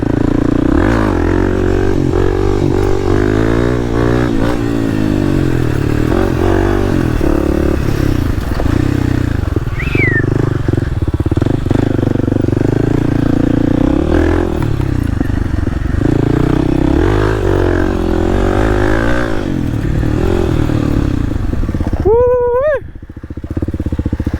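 A Kawasaki KLX300 dual sport motorcycle runs loud and close, its engine rising and falling through revs, with clattering and scraping, then a sharp throttle burst near the end.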